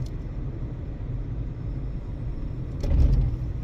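Inside a moving car, a constant low road rumble and engine drone fills the cabin, swelling slightly louder near the end with a brief thump.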